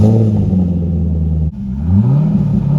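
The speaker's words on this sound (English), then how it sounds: "we're bringing my C5 Z06 from sounding like this" Chevrolet Corvette C5 Z06 engine on its stock exhaust, revving up and settling back in a loud, close, deep rumbling burble, with a short dip near the middle before rising again.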